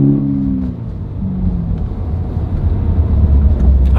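Engine of a 2022 Subaru BRZ heard from inside the cabin while driving, a loud, steady low rumble that swells slightly as it pulls, with a brief tonal hum early on and no talking.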